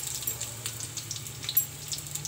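Cut potatoes frying lightly in a hot kadai, a soft steady sizzle with faint crackles and a low hum underneath, close and quiet, with no talking.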